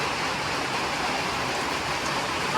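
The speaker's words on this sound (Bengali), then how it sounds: "বাইরে এত জোর বৃষ্টি হচ্ছে" Heavy rain pouring outside at night near a riverside hotel in the Dooars, a dense, steady roar of falling water, loud and unbroken throughout.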